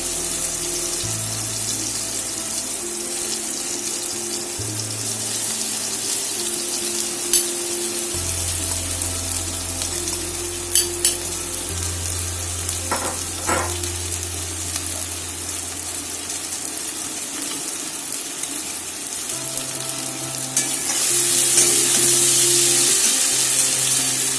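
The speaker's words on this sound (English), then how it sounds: "এবার এটা নেড়েচেড়ে ভেজে নিতে হবে" Potato stuffing mixture stir-fried in a pan with capsicum and tomato for vegetarian buns gives a steady, moderately loud sizzle and hiss, with a low tonal hum underneath and a few faint clinks of stirring.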